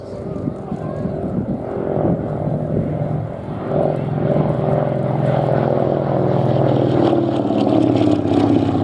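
A historic propeller aircraft, once flown on naval operations over the North German coast, drones steadily overhead at the Shuttleworth airshow, a continuous engine hum that swells slightly louder toward the end.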